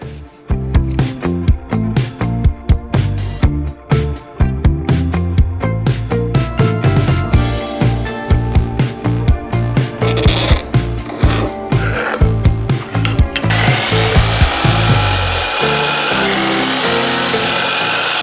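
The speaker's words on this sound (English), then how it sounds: "So I did decide to use the miter saw for this." A miter saw cutting halfway into a wooden piece, with repeated sharp knocks and clatter before the blade spins up into a sustained bright whirring roar near the end.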